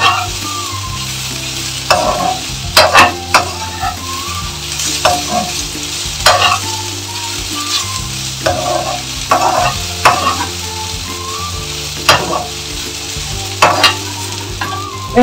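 Okra stir-fry (vendakkai poriyal) frying in a pan, loud close sizzling with repeated sharp scraping and tapping of a spatula against the pan at a steady rhythm.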